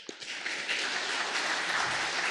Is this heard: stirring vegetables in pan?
no